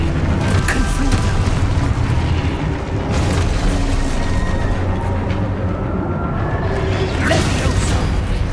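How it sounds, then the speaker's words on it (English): Confringo blasting spell exploding in the Hogwarts Legacy video game, a dense, loud run of booming blasts and whooshes filling the whole stretch, with combat noise layered throughout. "Confringo!"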